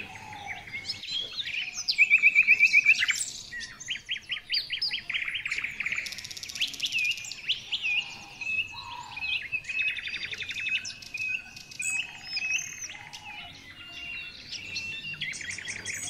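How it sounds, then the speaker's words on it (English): Birds sing in a forest at sunset: bright, varied chirps, trills and whistles overlap and rise and fall in bursts. The calls are fairly close and carry on without a break against a quiet background. "The bird song reaches a crescendo, filling the ear with an eternal chorus."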